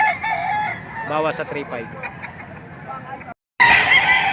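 Roosters crow and hens cluck among birds laid out for sale at a Tuesday poultry market in Padre Garcia, Batangas, one crow rising clearly near the start while people haggle over prices nearby.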